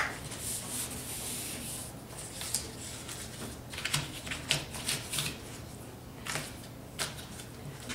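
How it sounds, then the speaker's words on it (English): Paper envelope hinges pressed down and folded back and forth, giving soft, close rustling and rubbing with a few sharper creases, quiet and continuous with no voices. "you can push these little hinges that you just created down and fold them over each direction"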